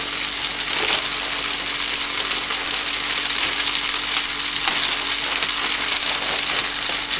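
Philly cheese steak meat cooks in a pan aboard a boat, giving a loud, even sizzle that runs unbroken, with a couple of faint clicks along the way.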